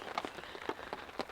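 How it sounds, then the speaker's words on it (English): Rain patters onto a tarp overhead at nightfall, a soft steady hiss broken by a few sharper drops close by. "It's raining out there."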